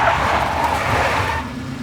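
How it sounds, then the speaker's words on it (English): In the Max Payne video game, a big black Mercedes engine roars as its tyres skid, a loud continuous rush of engine and tyre noise that eases slightly toward the end. "A big black Mercedes."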